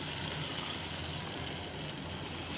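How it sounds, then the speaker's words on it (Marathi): Leftover spice water poured into a dhaba-style aloo matar korma curry, making a steady, continuous splashing wash of liquid that holds at an even level throughout, with no talking. "मसाल्याचं जे पाणी राहिलेलं होतं ते घालून घेऊ"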